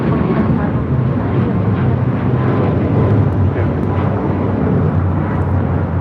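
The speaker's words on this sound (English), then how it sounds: "This is Alaska Airlines 1219 taking off to Seattle on a MAX 9" An Alaska Airlines Boeing 737 MAX 9 jet takes off at LAX, a loud, steady roaring rumble of engines under broadband wind-like noise, continuous throughout without clear voices.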